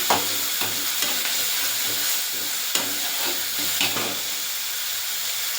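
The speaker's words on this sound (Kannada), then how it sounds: "ಕರಿಬೇವಿನ ಸೊಪ್ಪು ಸ್ವಲ್ಪ ಚೆನ್ನಾಗಿ ಫ್ರೈ ಆಗಬೇಕು." Curry leaves frying in a pan for a chicken fry dish: a steady, close hiss and sizzle with intermittent scraping stir strokes at a moderate level.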